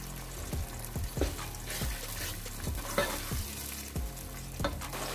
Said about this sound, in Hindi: और इसको हम अच्छे से भून लेते हैं